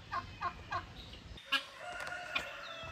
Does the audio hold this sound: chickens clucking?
yes